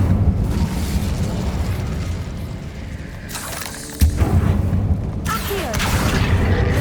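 The Incendio fire spell from Hogwarts Legacy bursts with a booming, roaring blast in the game, over a steady rumbling backdrop, with a sharp hit near the middle and a second flare of fiery noise shortly after.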